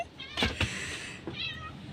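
A cat meows indoors in a few short, close calls, with a quieter mew toward the end, while people move and murmur faintly in the background.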